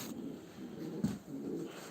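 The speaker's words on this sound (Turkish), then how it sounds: "Bugün bayağı bir kuş kalabalık." Pigeons coo in a crowded loft, soft low throaty calls repeating close by over a quiet background, with one slightly louder coo near the middle.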